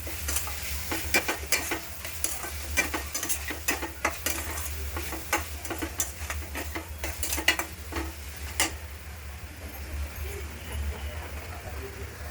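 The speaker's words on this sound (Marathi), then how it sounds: "मसाले छान मिक्स करून घेऊ." Pav bhaji masala and Kashmiri red chilli being stirred as they fry in a pan, with repeated sharp spoon scrapes over a steady close sizzle, no talking.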